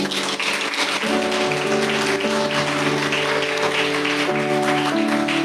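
A church congregation applauds during a Catholic sermon, a dense, steady wash of clapping running the whole time under sustained keyboard chords.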